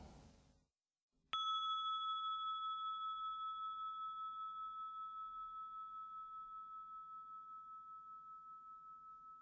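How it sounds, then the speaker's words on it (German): A meditation gong is struck once after a brief quiet moment and rings on alone, with a clear, pure tone that fades slowly over many seconds. "Der zweite Gong beendet dann wieder die Übung."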